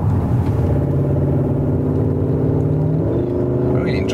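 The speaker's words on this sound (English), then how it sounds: "how loud it is from the exhaust." A loud, rumbling car exhaust drones close by, steady and throaty, with speech faintly mixed in.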